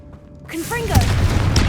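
A Confringo blasting spell goes off in Hogwarts Legacy during a tomb trial, a short rising whoosh bursting into a loud booming blast that rumbles on with crackling debris.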